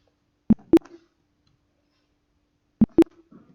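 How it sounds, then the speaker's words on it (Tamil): Two pairs of sharp, close plastic clicks from a computer keyboard as keys are pressed to save an entry, each pair quick and distinct and separated by about two seconds of near silence. "ஸோ நான் இப்போ என்டர் கொடுக்குறேன்."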